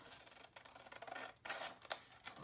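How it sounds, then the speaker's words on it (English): Scissors cutting a sheet of paper along its fold, a series of quiet, close rasping snips in uneven bursts with short pauses between strokes, heard alone without talk. "So I'm going to take my scissors"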